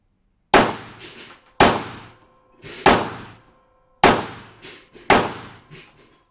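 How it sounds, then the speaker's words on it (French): Rifle bullets strike a steel gong target at an outdoor shooting range, giving five loud, ringing metallic clangs spaced about a second apart, each decaying quickly before the next hit. "c'est parce qu'elle a tapé dans le bas du gong, celle-là"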